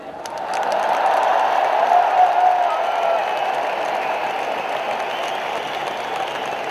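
A large crowd of Indian expatriates in the UAE breaks into sustained applause at a prime minister's speech, loud at first and then settling into a steady clatter of many hands with no speech over it.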